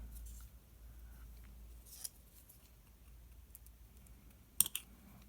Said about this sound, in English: I'm just going to cut that off so it's not in the way.